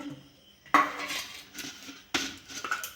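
A spoon stirs vegetable momo filling in a metal bowl, with two sharp scraping clinks followed by softer mixing rasps, close and without talk.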